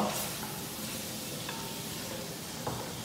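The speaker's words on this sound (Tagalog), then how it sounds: "So, igisa lang natin to." Onions and garlic sautéing in oil for kare-kare, a soft continuous hiss and sizzle with a few faint stirring clicks, close but fairly quiet and with no talk.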